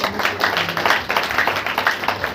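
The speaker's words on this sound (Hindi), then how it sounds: "ताली बजा करके" A church congregation at a Saturday power meeting claps hands together in a loud, steady rhythmic beat, many palms striking at once in even pulses.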